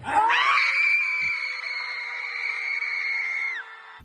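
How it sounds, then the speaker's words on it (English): A crowd in New York City screams as loudly as it can, producing one sustained, piercing roar that holds for about three and a half seconds before cutting off. "I want you to scream as loud as you possibly fucking can"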